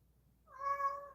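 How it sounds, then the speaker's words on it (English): A single cat meow, clear and fairly close, starting after a brief quiet moment and rising into a sustained tonal cry. "What are you meowing about so much?"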